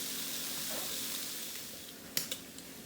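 Bacon browning in a pan hisses with a steady, soft sizzle, joined near the end by a few brief scraping or clinking touches.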